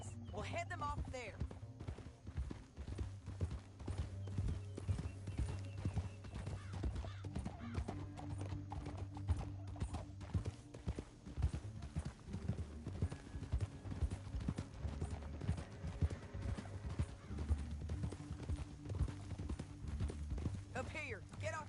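Horse hooves gallop in steady clip-clop rhythm through a Red Dead Redemption 2 canyon chase, with a horse neighing and characters talking over the hoofbeats and game score.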